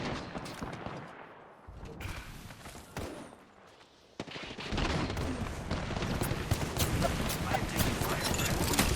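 Shooter video game gunfire: scattered shots early, then a dense, continuous barrage of rapid fire from about the midpoint, with a voice talking over it.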